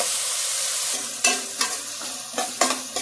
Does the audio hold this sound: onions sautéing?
yes